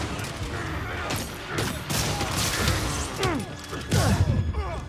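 Gunfire during a Spider-Man video game fight, with scattered loud shots mixed with crashes and impact hits, growing heavier toward the end.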